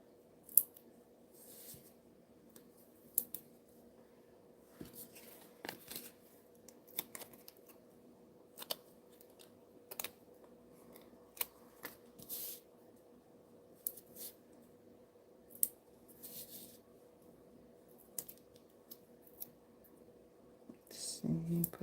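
Scissors cut through card in a quiet studio with soft, separate snips spread across the stretch. The snips are faint and close, with a low steady hum underneath.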